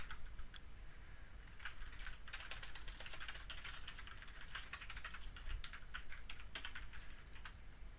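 Rapid, soft clicking of typing on a computer keyboard, a quiet continuous patter of close keystrokes with short pauses and no talk.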